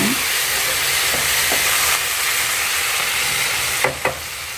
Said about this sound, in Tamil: தக்காளி பாருங்கள் நல்லா வதங்கிடுச்சு நல்லா எண்ணெயிலேயே நல்லா குக் ஆகிடுச்சு நல்லா இப்படி மிக்ஸ் பண்ணி விடுங்க